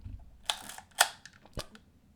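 A Yashica Electro 35 film camera fires on a slow shutter setting, giving a few sharp mechanical clicks spaced about half a second apart, close and crisp against near silence.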